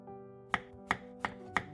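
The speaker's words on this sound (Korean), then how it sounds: "먼저 당근과 양파, 청양고추를 다져주세요." Four sharp knife strikes on a cutting board at an even pace, chopping carrot, onion and green chili peppers for a tuna and chili egg pancake; close and clear with nobody talking.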